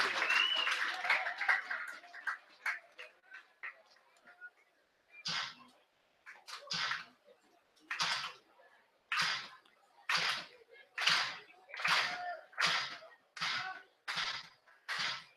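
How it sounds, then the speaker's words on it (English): A baseball crowd at a Medicine Hat Mavericks game claps in a steady rhythm, a series of evenly spaced bursts that grow stronger and more regular, after a stretch of looser applause at the start. "Crowd trying to get behind Kunkel here."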